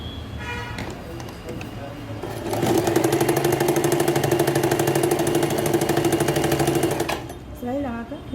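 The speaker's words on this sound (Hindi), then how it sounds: "अभी उस खुले हुए हिस्से को हम यहाँ से सिलाई लगाएंगे" Sewing machine stitching the open lower edge of a pocket on palazzo pants, running steadily for about four seconds with a rapid even whir, framed by quieter handling sounds at the start and end.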